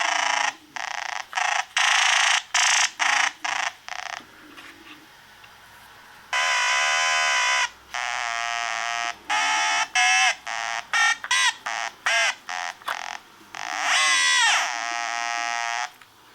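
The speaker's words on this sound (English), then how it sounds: "And the synth sounds a bit like this." A Korg Monotron Delay synthesizer plays a run of short, buzzy, alarm-like tones with pitch sweeps and gaps between them. The bursts are fairly loud, there is no speech, and a faint noise floor sits underneath.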